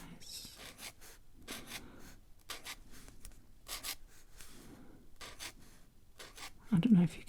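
Sky blue marker drawing on thick sketch paper, a series of short, harsh scratchy strokes in irregular bursts, close and quiet, with a soft voice speaking briefly near the end.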